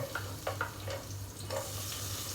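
Garlic dropped into a frying pan crackles in a low, steady sizzle with a few soft stirring scrapes, close and quiet.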